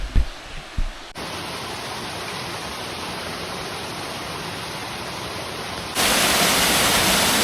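A waterfall along the Appalachian Trail near the Tye River roars as a constant, loud, hissing rush. A few footsteps or bumps come before the roar begins, and the rush grows noticeably louder near the end.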